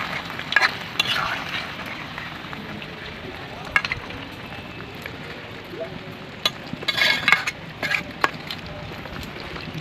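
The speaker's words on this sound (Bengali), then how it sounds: "এটা অল্প করে কষা কষা হবে, তো অল্প জল দিয়েই সেদ্ধ করে নেব" Chicken cooks down in a little water over low heat for chicken kosha, with a gentle sizzle broken by occasional utensil clinks and scrapes.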